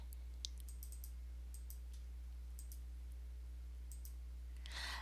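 A computer mouse gives a few sharp, close clicks scattered through a quiet stretch over a steady low electrical hum, with a brief rustle at the end.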